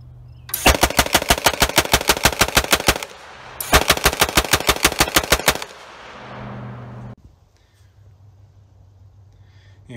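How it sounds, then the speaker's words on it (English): A mounted machine gun on a 1967 Jeep M715 military truck fires two loud, rapid bursts of evenly spaced shots, each lasting a few seconds, with a brief pause between them and echoing decay afterward. "It does allow this gun to give a nice loud report, and makes a pretty good spectacle when we do fire it off"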